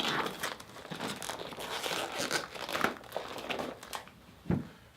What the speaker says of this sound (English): You're now ready to fold the glove gauntlet back over.